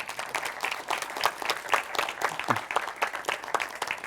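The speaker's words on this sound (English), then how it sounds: "a big round of applause, please" A conference audience at a Kubernetes storage talk breaks into steady applause, dense overlapping clapping at moderate volume that holds evenly throughout.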